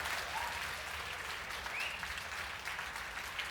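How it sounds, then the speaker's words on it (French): An audience claps together for a contestant at a televised game show, steady dense applause at moderate volume lasting a few seconds with no talk. "On l'applaudit tous ensemble, s'il vous plaît"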